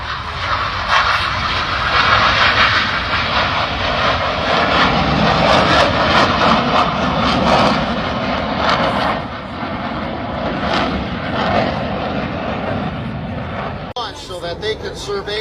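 Military fighter jets roar loudly and continuously as they are scrambled and launched at an air show, a steady, close engine rumble that fills the whole span and eases slightly near the end, with a voice speaking faintly beneath it.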